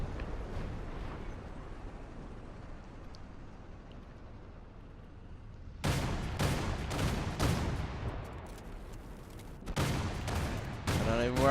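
Bursts of heavy cannon fire from the twin 57mm guns of a ZSU-57-2 anti-aircraft vehicle in War Thunder begin partway through, loud repeated shots in clusters over steady battle rumble.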